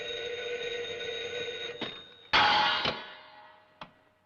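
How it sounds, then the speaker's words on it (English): An old telephone bell rings in a 1938 musical film. A sustained metallic ring sits under a room tone, then a louder clanging burst and a final short ding follow. "I think the phone's ringing."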